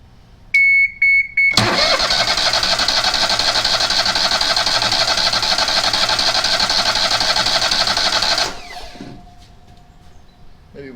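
Bush Hog zero-turn mower engine cranking and catching, a loud steady running roar for about seven seconds after a few short starter bursts, then dying down to quiet.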